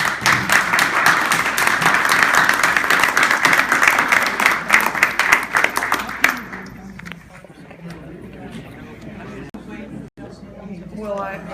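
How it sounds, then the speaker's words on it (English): An audience at a candidate debate forum claps for the candidates, a loud, dense burst lasting about six seconds that thins into scattered claps and then room murmur with people talking. "a round of applause for our candidates"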